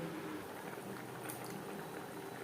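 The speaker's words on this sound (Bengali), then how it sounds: "আপনার উপর গ্রেভি ফুটে ওঠা পর্যন্ত অপেক্ষা করব" Egg curry gravy boils steadily in a pan, a continuous low bubbling and simmering with no talk over it.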